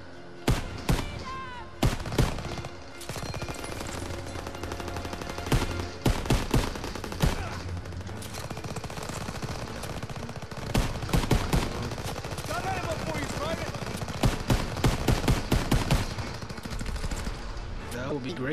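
Gunfire in the Call of Duty WWII campaign crackles in sharp single shots and rapid bursts throughout a busy urban firefight, loud and close, with a player talking over the shooting.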